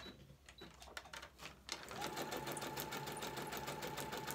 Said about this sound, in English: My sewing machine is a Brother